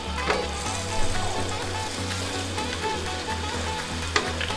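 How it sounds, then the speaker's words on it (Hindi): Potato pieces frying in hot oil with turmeric and spices for aloo gobi, a loud continuous sizzle with occasional scraping stirs and clinks of a spoon against the pan, close up and without speech. "आलू ऐड करने लगे हैं, भूना है 2 मिनट हमने।"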